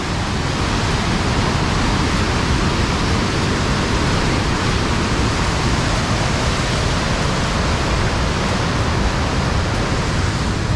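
Niagara River's Upper Rapids rush in a loud, steady, unbroken roar of churning whitewater, close by and constant throughout with no other sounds.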